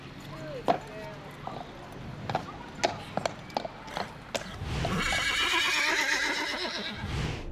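A tram horse whinnies loudly after a run of sharp hoof clops on a hard surface, with a second shorter neigh at the end.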